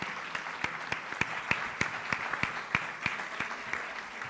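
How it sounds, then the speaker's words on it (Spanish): Audience at a talk applauding the speaker, a modest, sparse round of claps with distinct individual hand strikes, fairly quiet and steady, no talk over it. "le damos un fuerte aplauso al doctor"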